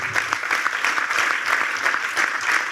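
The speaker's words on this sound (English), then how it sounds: "A round of applause" A crowd applauding, dense clapping that stays steady and fairly loud throughout.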